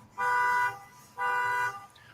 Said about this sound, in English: This heifer is always setting off her fucking alarm.